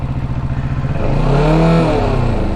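A motorcycle revs up in first gear, the engine climbing steadily in pitch and loudness over a couple of seconds, close and alone without voices.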